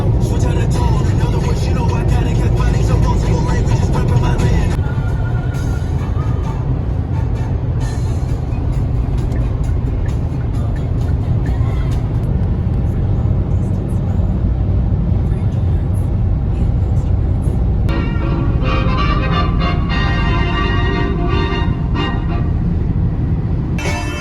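A car cruises along a highway heading east on a long road trip, a steady loud low rumble of engine and road noise throughout, with a brief tonal whine near the end and no talk.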